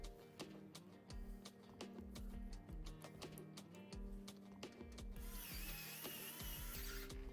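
Screws are driven into an Antec P20c PC case with a ratcheting driver: rapid mechanical clicks and ticks repeat steadily at close range, and a brighter metallic hiss joins in toward the end.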